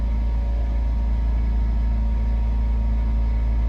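A Mazda 6 engine idles after a push-button start, a low, steady rumble with a faint hum, close and constant with no voices.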